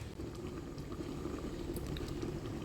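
Covered pot of red lentils and tender sweet pumpkin simmering, a steady low bubbling rumble that stays even and continuous throughout, fairly quiet with no voices.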